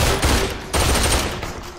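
Heavy rapid gunfire in the VR shooter Population One, loud dense volleys that pause briefly twice before resuming, with no talking.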